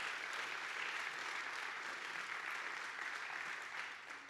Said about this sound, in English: another round of applause for Mark